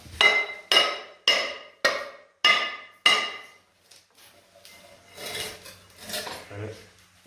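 Six sharp, evenly spaced metal hammer blows ring out on a brake rotor of a Nissan 240SX subframe, each strike loud and close with a ringing decay, followed by quieter scraping and clattering as the rotor is turned.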